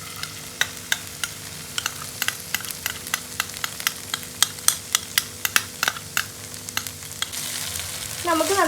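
Crispy Chinese-style potatoes and sauce are stirred in a hot pan, producing a quick string of clicking spatula taps over a constant low sizzle that swells louder at the end.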